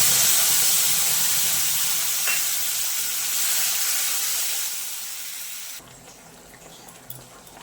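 Ground ginger, green chili and tomato paste sizzling in hot oil, a loud close hiss that slowly fades and then drops abruptly to a faint crackle.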